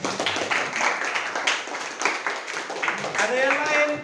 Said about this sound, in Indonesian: Oke, tepuk tangan untuk temanmu.